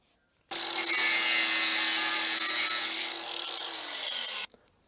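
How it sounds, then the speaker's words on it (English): Angle grinder slicing through a square-edged offcut, one steady abrasive cutting run of about four seconds with a high gritty whine, close and fairly loud, alone with no talk. "All you do is take your angle grinder,"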